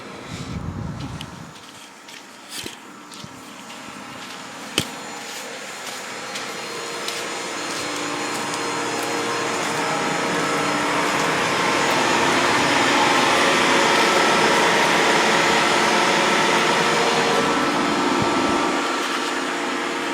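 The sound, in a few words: Renault Zoe air conditioning running at minus 9 degrees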